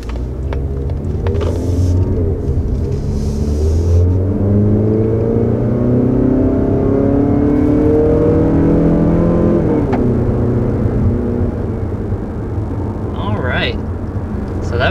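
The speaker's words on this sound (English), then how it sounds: "Up to 55 miles an hour uphill in this CX-30." A 2021 Mazda CX-30 accelerates uphill toward 55 mph, its steady low engine drone and road rumble rising gradually in pitch as it gains speed, heard from inside the cabin with a brief click near the end.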